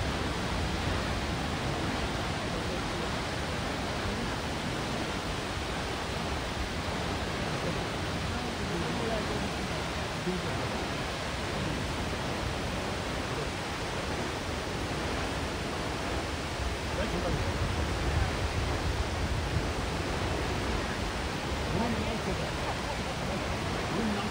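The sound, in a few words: Thoseghar waterfall, seen up close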